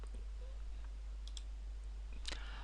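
A few faint, sharp mouse clicks in a quiet room while working in 3ds Max, spaced irregularly, with a cluster of brighter clicks near the end and no talking.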